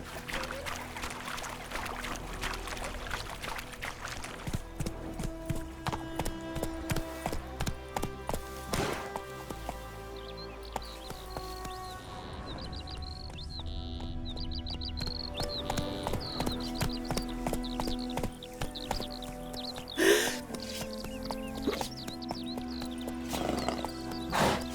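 Horse galloping in The Witcher 3, its clip-clop hoofbeats running steadily and close throughout, with occasional neighs and whinnies over a layer of game music.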